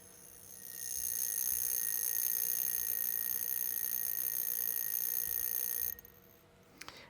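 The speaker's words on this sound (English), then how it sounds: "That was the alarm." Omega Memomatic mechanical wristwatch alarm rings as a steady, fairly quiet buzzing tone for about five seconds, then cuts off abruptly, followed by a couple of faint clicks.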